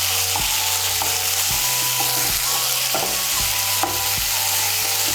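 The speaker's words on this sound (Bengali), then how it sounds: "কাঁচা লঙ্কা বাটা আর আদা বাটাটাকেও তেলের সঙ্গে মিশিয়ে নেব।" Green chili paste and ginger paste fry in hot oil for a prawn dish, giving a loud, continuous sizzle broken by repeated scrapes and knocks of a spoon stirring the pan.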